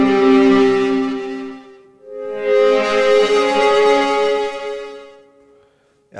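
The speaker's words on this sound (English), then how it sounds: "as far as I can tell, this is like a huge distortion" Orchestral bowed strings from the ProjectSAM Dystopian Bows sample library, pushed through heavy distortion: a loud sustained harmonic-rich drone swelling in two long phrases with a brief dip between them, alone with no talk.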